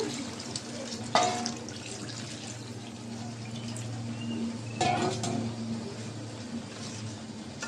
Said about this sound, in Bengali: মশলাটা কষানো হয়েছে এখন আমি পানি দিয়ে দিলাম